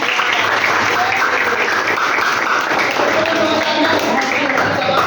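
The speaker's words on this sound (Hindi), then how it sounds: "बजाओ अपने लिए ताली" Students in a Hindi grammar class clap together in a sustained, dense round of applause that stays loud and steady throughout.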